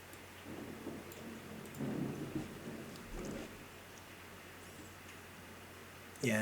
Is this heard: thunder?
yes